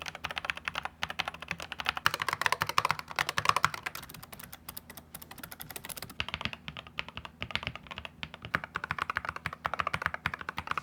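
Steady typing on a wireless keyboard, quick soft key clicks in an irregular rhythm, close by and continuous with no talk.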